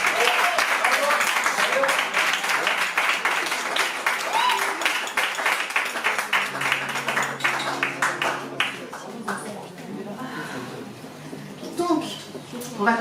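A concert crowd at La Zonmé in Nice applauds the musicians: dense, loud clapping that thins and fades over the last few seconds, with some voices mixed in.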